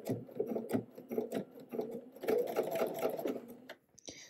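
A domestic sewing machine stitches into the crease of a pair of pants in uneven bursts of close mechanical clatter, stopping and starting, with a brief pause near the end.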